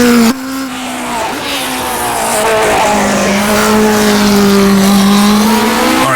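A 1960s Formula 1 car in the rFactor 2 racing game screams through a lap, its engine note holding a loud steady tone that climbs gradually as it accelerates, with no one talking.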